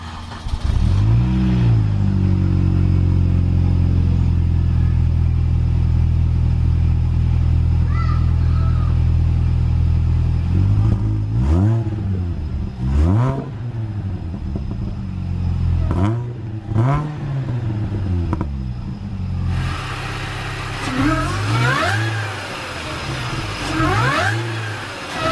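A flood-damaged Mini Cooper S R53 with an aftermarket exhaust and mechanical damage starts up close by, settling into a loud, rough idle, then barks through several sharp revs that rise and fall in quick succession.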